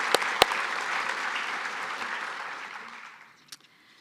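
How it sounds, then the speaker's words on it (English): Audience applause at a 2025 veterans recognition ceremony: a steady, full round of clapping from a crowd with a few sharp claps at the start, thinning and fading away to near silence near the end. "so another round of applause to show our appreciation"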